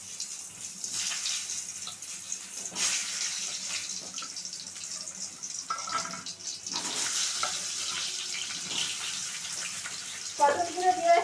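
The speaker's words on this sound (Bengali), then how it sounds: "তেলটা আমার গরম হয়ে গেছে, আমি এখানে পটলগুলো দিয়ে দেবো।" Pieces of pointed gourd (potol) added to hot oil, giving a loud, continuous hiss and sizzle with fluctuating bursts and some clattering near the end.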